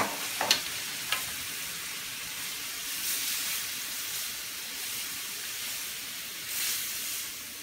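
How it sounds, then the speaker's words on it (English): Leftover roast beef in au jus stirred in a hot pan gives a steady, soft sizzle and hiss, with a few spoon scrapes early on and no talking. "And just stir this around for a minute."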